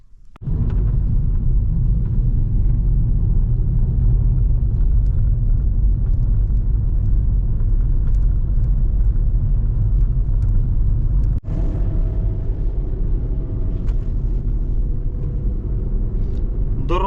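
A car driving along a rough village road in Ukraine, a loud, steady low rumble of engine and road noise close inside the cabin, with a brief dip partway through and no talk.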